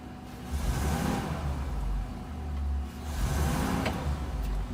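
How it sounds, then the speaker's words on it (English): A truck engine in drive revs twice fairly rapidly to about 1500 RPM, a steady low rumble swelling in two broad surges with a brief dip between them, close and fairly loud. "I'm going to rev the engine up to 1500 RPM in drive twice, fairly rapidly"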